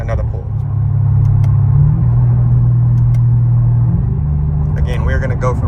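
A Cadillac CTS-V pulls hard from third gear in a roll race, its engine note rising in a loud, steady rumble from close inside the car, with some talk faintly underneath.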